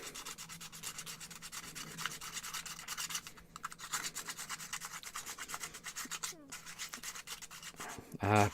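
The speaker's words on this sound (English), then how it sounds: "let's just get the sanding done." Wood being hand-sanded for a wooden monowheel build, repeated rhythmic rubbing strokes close by, fairly quiet and continuous, with a brief clatter at the end.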